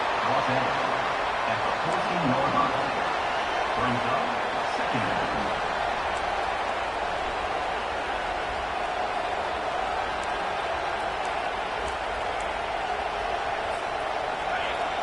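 A football stadium crowd roars in a steady, dense wash of noise throughout, with a commentator's voice over it early on.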